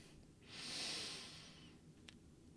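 A slow, deliberate breath drawn in through the nose during a calm mindfulness exercise, one soft, close airy inhale lasting about a second, followed by a faint short sniff.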